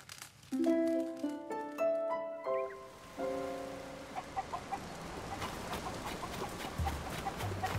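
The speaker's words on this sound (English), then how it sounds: "I just gotta follow the chickens." Wild cuccos in Zelda: Tears of the Kingdom cluck in a few short bursts over tonal game music, then continue faintly under a steady rain-like outdoor ambience.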